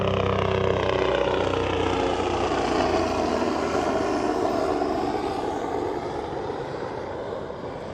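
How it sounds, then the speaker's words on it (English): A helicopter flies overhead above the Florida Keys while kayak fishing, a loud, steady droning engine-and-rotor roar that slowly fades a little as it passes, with no voices. "Here comes the helicopter."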